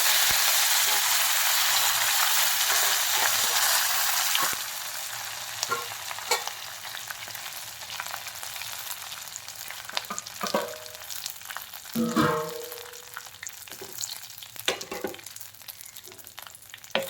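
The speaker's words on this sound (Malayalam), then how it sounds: "കടുക് രണ്ടും കൂടെ നല്ല ഒന്ന് പൊരിഞ്ഞു വരണം കടുക് പൊട്ടി കഴിഞ്ഞാൽ" Mustard seeds fry in hot oil for a prawn theeyal, starting with a loud dense sizzle that cuts off sharply, then continuing as scattered crackling pops and spits.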